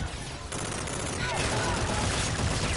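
Intense gunfire in the Call of Duty: Infinite Warfare campaign, a loud, continuous fusillade of overlapping shots and explosions from start to finish.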